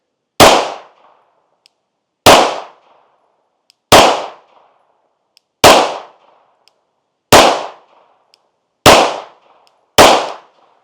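Seven loud, sharp Glock pistol shots fired at a target, evenly spaced about every one and a half seconds, each a hard crack with a brief decay into silence.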